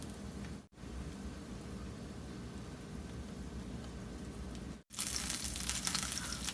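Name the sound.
potstickers frying in a pan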